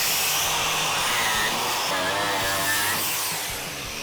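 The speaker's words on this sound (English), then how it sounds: "have a look once I just grind a bit of this back" Angle grinder working rusty steel back to bare metal on a car sill, a loud continuous high-pitched whir with abrasive rasping close by, easing slightly toward the end.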